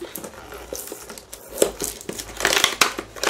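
Close crinkling and tearing of plastic packaging on craft supplies by hand, without scissors, irregular rustles building to louder rips near the end, with no talking.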